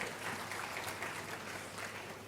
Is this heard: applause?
yes